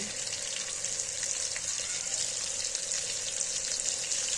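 Okra frying in a pan, a steady hissing sizzle that holds at an even, moderate loudness throughout with no talking.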